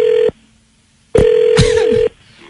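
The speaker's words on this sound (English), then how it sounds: "Let's call her daughter right quick, see if we can get her on the phone." A telephone call goes out: a loud steady tone, a pause, then the tone resumes with brief overlapping ring and connection sounds before cutting off, heard alone without voices.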